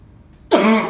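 A short, harsh cough and throat clearing from a person with acid reflux bursts out after half a second of near silence, loud and close, alone with no talk.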